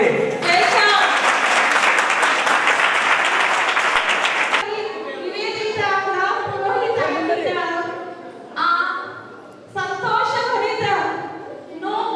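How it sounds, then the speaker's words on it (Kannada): Loud, dense applause from a wedding crowd fills the first few seconds, then cuts off and gives way to people talking. "ಏಕಪಾದ ದೊಡ್ಡ ಚಪ್ಪಾಳೆ"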